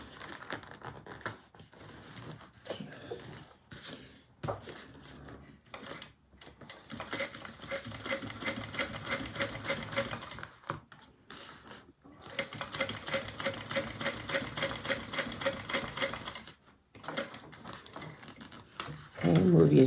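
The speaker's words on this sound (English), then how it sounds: "Top stitch right across the top." A sewing machine top-stitches across the zipper window of a fabric bag in rapid mechanical bursts, stopping and starting several times with short pauses between runs, close and moderately loud.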